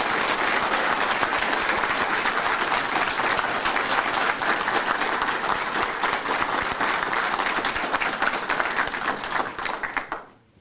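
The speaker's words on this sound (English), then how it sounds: "I'll just ask for one final round of applause" Loud, sustained applause from an audience at the Secretary of Defense Freedom Awards ceremony, dense clapping holding steady for about ten seconds before cutting off sharply at the end.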